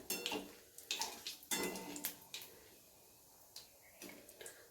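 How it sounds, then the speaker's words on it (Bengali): Dried red chillies and a cinnamon stick stirred in a pan for a Bengali fish curry tempering, heard as a series of light, quick scraping and clinking strokes with soft gaps between them, close and fairly quiet. "এবারে ফোড়নটাকে খুব ভালো করে একটু নেড়ে চেড়ে নেব, যাতে ফোড়ন থেকে একটা খুব সুন্দর ফ্লেভার বেরোয়।"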